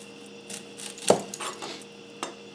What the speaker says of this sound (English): I'm going to start off by slicing up and sauteing an onion.